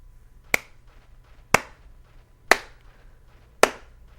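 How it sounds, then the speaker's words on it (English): A sarcastic slow clap in Fatal Frame 2 (Project Zero): four sharp, isolated hand claps about a second apart, each crisp and alone against near silence. "I love the slow clap."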